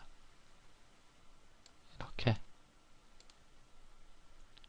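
Mouse clicks during Rhino 3D modelling work: a tight pair of sharp clicks near the middle, close and clear over a faint quiet room, with no talk over them.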